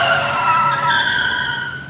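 A truck's tires screech as it brakes hard to a stop in an audio drama scene, a loud, sustained squeal with steady high tonal streaks lasting throughout, fading slightly at the end.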